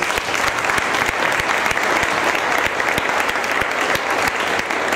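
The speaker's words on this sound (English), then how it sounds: "deserves a huge round of applause" Steady, dense applause fills the room from a dinner audience at the 2012 Citroën Rendezvous, a full crowd clapping loudly and continuously for the whole stretch with no voices rising above it.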